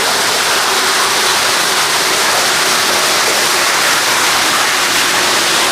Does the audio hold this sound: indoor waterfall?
yes